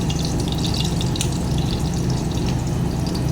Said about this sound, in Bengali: এবার আরও একটু তেল দিয়ে দিচ্ছি।